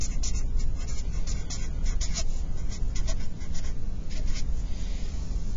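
A pen writes on a cell-organelle flash card, a close, continuous scratchy rubbing made of quick strokes and short pauses, steady and fairly loud throughout.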